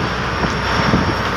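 A motor boat runs past at sea, throwing up spray, its engine a loud, steady roar mixed with wind and rushing water, with no voices heard.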